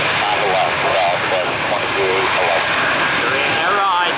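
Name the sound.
jet airliner engines during takeoff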